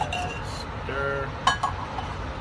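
Coffee with hazelnut cream is stirred in a cup, with a spoon giving a few light clinks against the rim over a quiet background.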